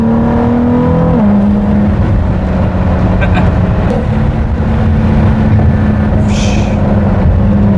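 A Mercedes SLS AMG Black Series sports car engine roars loudly and continuously, its pitch shifting as the car accelerates close by.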